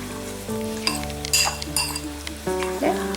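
Soya chilli gravy is stirred in a pan, giving close metallic clinks and scrapes of a spoon over a low sizzle. A steady musical tone runs underneath the whole time.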